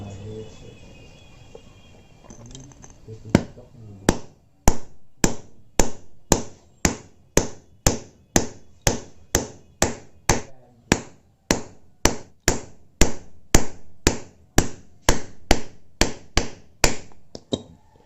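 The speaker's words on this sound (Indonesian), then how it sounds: "Untuk memasukkannya didorong pakai palu pelan-pelan kayak gini" Hammer gently tapping a water pump seal into place on a Honda Vario 125 scooter, a long run of about twenty-five sharp, evenly spaced taps, steady and close, with no talk.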